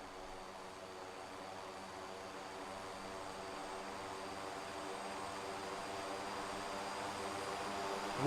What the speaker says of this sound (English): I can hear engines.